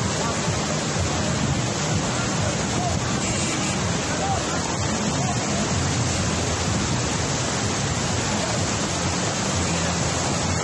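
Floodwater rushes through the streets of Sosua as a dense, constant roar of water, loud and unbroken throughout.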